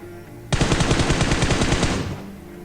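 Rapid automatic gunfire from the Free Fire battle royale game, one sustained burst of about a second and a half with evenly spaced shots, loud and close, then cutting off abruptly.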